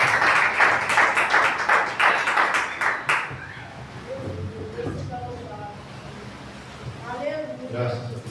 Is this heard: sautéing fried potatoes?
no